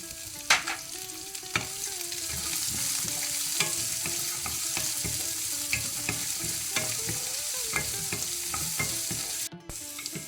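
Onions frying in a pan with ginger and curry leaves for ghee poha, a steady close sizzle broken by scraping stirs and spoon clicks throughout, no voices.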